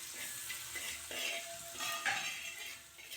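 Sliced onions sauté with a teaspoon of salt in a pan for a roasted-coconut chicken curry. A quiet, soft sizzle runs throughout, broken by a few light utensil scrapes.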